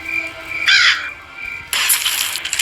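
A crow in the Granny 3 horror video game caws in two loud, harsh bursts, one short call early and a longer one near the end, close and clear with no talk over it.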